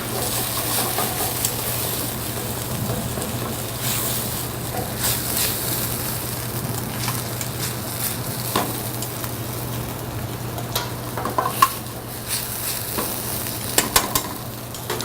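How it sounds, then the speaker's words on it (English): A New York steak pan deglazed with a splash of white wine, hissing in a steady broad sizzle with scraping and stirring throughout, a few sharper crackles near the end; no talking. "I'm going to hit it with just a little bit of white wine. So, also, to kind of deglaze it off a little bit"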